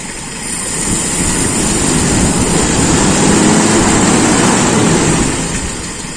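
A motorcycle engine revs up after its carburetor air screw is adjusted, giving a loud, dense, continuous roar that swells from the start and holds steady before easing slightly near the end.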